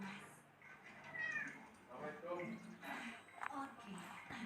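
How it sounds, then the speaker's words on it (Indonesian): A cat meows a few times alongside people talking, the cries rising over conversation at moderate loudness. "Ayo, kemarilah kucing."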